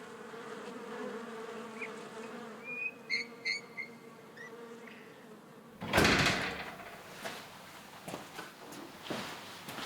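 A swarm of wild bees buzzes around a hive in a steady, droning hum with a few sharper chirps. Partway through, a loud rustle or scrape cuts in before the buzzing carries on.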